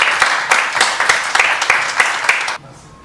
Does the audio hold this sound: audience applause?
yes